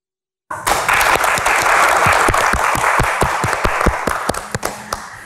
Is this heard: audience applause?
yes